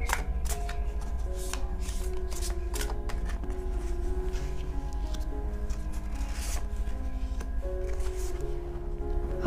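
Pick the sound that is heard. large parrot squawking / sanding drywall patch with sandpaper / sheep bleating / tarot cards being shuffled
tarot cards being shuffled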